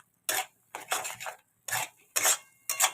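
A spoon scrapes and clinks against a pan as a spice paste for dal makhani is stirred, five short bursts of metallic scraping separated by silent pauses.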